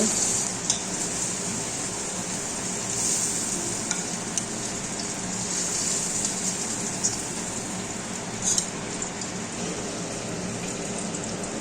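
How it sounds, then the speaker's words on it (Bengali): Shrimp frying in oil in a pan, a steady close sizzle with a few sharp pops and crackles across the whole stretch, no talking. "চিংড়ি মাছগুলো ভাজা হয়ে গেছে এবার নামিয়ে নেবো"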